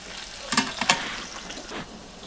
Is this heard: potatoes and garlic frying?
yes